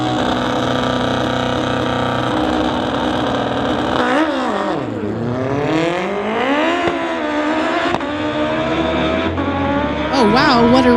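A Kawasaki motorcycle drag racing at a street-legal event, its engine roaring loud and close and sweeping up through the gears, with another race engine in the mix and a commentator talking over it.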